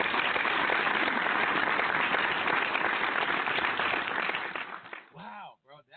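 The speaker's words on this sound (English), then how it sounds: "Let's applaud Bam." Applause on a barbershop talk radio show, a dense, steady wash of clapping that tapers off before a voice speaks at the close.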